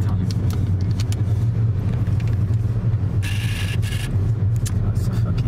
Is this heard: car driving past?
yes